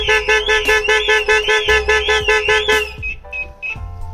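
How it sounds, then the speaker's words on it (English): A VW Transporter van's aftermarket Starline alarm honks the horn in a rapid repeating pattern alongside a wailing siren, loud and close, before cutting off into quieter beeps. "we've actually set a horn honk trigger with a slight delay"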